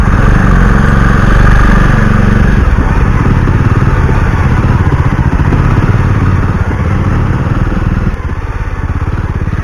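A motorcycle ridden along a muddy forest dirt road, its engine a loud, close, continuous chugging drone that shifts in load and rhythm as the bike labors over the rough surface, with no talking.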